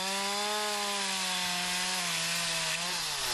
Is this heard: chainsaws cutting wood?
yes